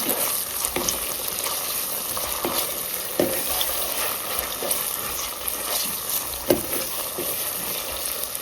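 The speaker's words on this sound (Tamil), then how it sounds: "இது நல்லா வதக்கு பச்சை வாசனை போகிற வரைக்கும் நல்லா" Biriyani masala with rajma sautéing in a pan, a continuous close frying hiss with scattered light scrapes and taps of stirring, no one speaking.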